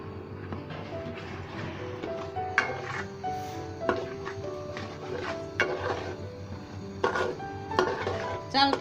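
Rice tipped into a pot for egg biryani, with scattered clinks of a metal spoon against the pan and a soft sizzle underneath, close and moderately loud, with no talking.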